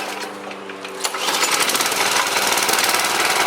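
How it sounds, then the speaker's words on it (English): A 1998 motorbike engine cold-starts, catching about a second in and settling into a loud, close, rapid rattling idle with no speech. "Now it hasn't been started today, so this is a cold start."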